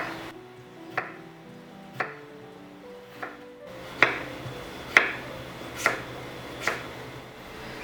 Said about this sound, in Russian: Картошку нарезаем на тонкие слайсы.